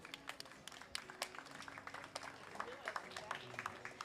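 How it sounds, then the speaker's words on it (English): Spectators at a Special Olympics Over the Edge event applaud as a participant makes a final descent, scattered clapping heard faintly under a speaking voice and some background noise. "let's give Brian Ho a round of applause"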